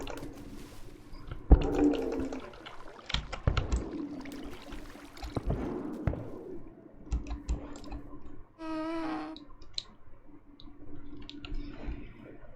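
Waterfall water in Minecraft splashes and gurgles while being climbed, a faint irregular stream of watery clicks and swishes with short bursts, quiet and close, alone without talk.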